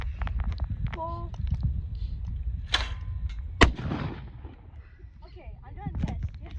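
A single loud, sharp blast from a 10 gauge shotgun fired outdoors at a shoot, with people talking before and after it.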